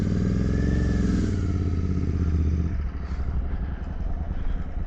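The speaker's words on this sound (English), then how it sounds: "Sputter and backfire there. Little pop." A Royal Enfield Continental GT 650 motorcycle fitted with a booster plug idles close by with a deep, steady exhaust throb. The engine note then drops into a rougher, uneven sputter with small pops.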